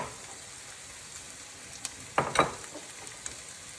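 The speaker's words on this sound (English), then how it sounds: "give the mushrooms a little turn as well, so they won't burn" Mushrooms, onion and garlic sizzle in a pan while being stirred, a soft steady frying hiss with a few louder scrapes and clacks of a utensil partway through, close and quiet without talk.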